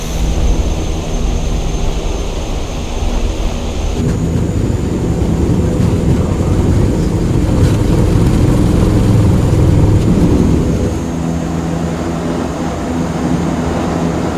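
Cockpit view of a CL-415 water bomber on takeoff in Microsoft Flight Simulator 2024, a loud sustained engine and propeller roar that swells as power builds, then eases slightly toward the end.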